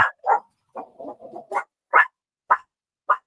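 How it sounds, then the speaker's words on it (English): A pet dog barks in a series of sharp, separate yaps and short yips, fairly close and loud, spaced roughly half a second apart, with a brief cluster of softer grumbling barks in the middle and no talk. "he would cause Lily to bark"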